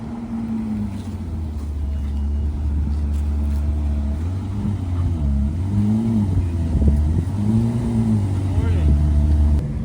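Ferrari 812 sports cars rumble past one after another during a fall Ferrari cruise through a small town, their deep engine notes rising and falling as they pass close by.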